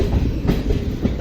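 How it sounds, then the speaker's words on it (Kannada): Mysore–Belagavi Express (train 17301) pulling into platform 1 of an Indian railway station, a steady low rumble of rolling wheels and carriages with faint rhythmic clatter, close by and continuous with no talk. "ಪ್ಲಾಟ್ಫಾರ್ಮ್ ನಂಬರ್ 1ಕ್ಕೆ ಈಗ ಮೈಸೂರು ಬೆಳಗಾವಿ ಎಕ್ಸ್ಪ್ರೆಸ್ ಟ್ರೈನ್ ಬಂದೈತೆ ನೋಡ್ರಿ"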